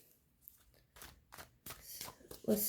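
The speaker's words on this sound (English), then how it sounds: "So just going to give it a bit of a shuffle." A deck of Rider-Waite tarot cards is shuffled close by. Soft, irregular riffling and slapping grows louder toward the end, with faint rustling in between.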